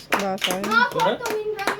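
A few hand claps ring out at a little girl's fourth birthday party at home, scattered among children's and adults' voices talking and singing nearby.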